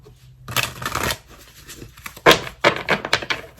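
Close-up papery riffling and snapping of a deck of tarot cards being shuffled, in a few quick bursts separated by short pauses.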